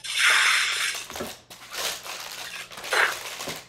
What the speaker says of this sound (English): so I actually take it and crumple it